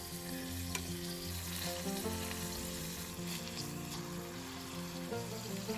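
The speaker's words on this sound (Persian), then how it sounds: "داخل تابه‌ای که روغن ریختید و داغ شده رول ها رو بچینید" Meat and chicken rolls fry in hot oil in a pan, producing a loud, dense, continuous sizzle and crackle close up, with a low steady hum underneath and no voices.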